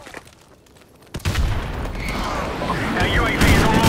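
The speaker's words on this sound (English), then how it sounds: "Friendly airstrike on the way." Airstrike explosions in Call of Duty: Modern Warfare Remastered erupt after a brief quiet, a sudden loud boom followed by sustained rumbling blasts and gunfire-like crackle that build steadily, with game voice announcements over the chaos.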